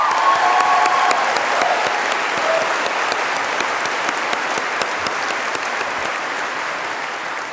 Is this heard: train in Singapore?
no